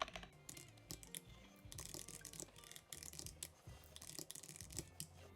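Rapid clicking of a computer keyboard as a team objective is typed into a Notion template, steady quick keystrokes close up with no voice.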